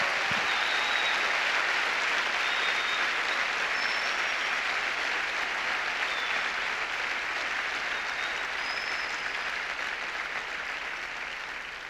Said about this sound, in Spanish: Ahora si va a aplaudir, aplauda con gusto,